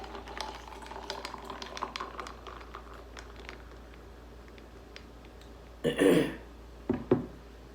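Beer, a Corona, poured aggressively into a Mexican Sunrise mixed drink, fizzing and splashing in two short bursts near the end after a stretch of quiet clinking and faint handling noise.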